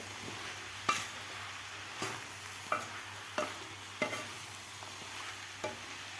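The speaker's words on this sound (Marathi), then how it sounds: "आता हे सुके मसाले घातल्यानंतर सुद्धा आपल्याला व्यवस्थित या भाज्यामध्ये मिक्स करून घ्यायचे आहेत मसाले" Dry spices being stirred into mixed vegetables for khichdi in a pan: soft sizzle underneath a series of distinct spoon scrapes and taps against the metal, roughly one every second, no voices.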